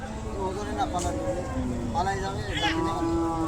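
A tethered cow at a cattle market moos repeatedly with long, low drawn-out calls, close by, while people talk over it in the background.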